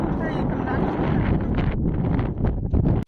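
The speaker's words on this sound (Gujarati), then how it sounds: "પવન બહુ એટલે તમને અવાજ આવતો હોય" Strong wind blowing outdoors in a village while a water motor is started, loud continuous buffeting rush across the microphone with gusty surges, cutting off abruptly at the end.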